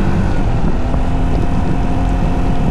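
A scooter rides along the road toward Le Mans, its engine a loud, steady drone with tonal hum buried under heavy wind buffeting on the microphone, continuous throughout.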